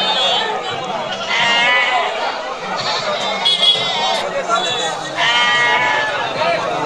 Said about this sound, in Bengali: বিশাল বড় ছাগলের হাট। এই দেখেন ছাগল, কালো সাদা লাল মিক্সার করা ছাগল।